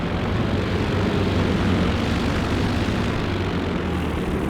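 Warplanes in Company of Heroes 2 roar overhead with a continuous, loud, low engine drone that stays steady and unbroken, with no talking.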